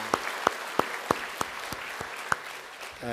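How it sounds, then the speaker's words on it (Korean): A church congregation claps in praise to the Lord during a Korean service, producing a steady, moderate wash of clapping with a few sharper hand claps standing out. "우리 목자 되신 주님께 박수로 영광 돌립니다"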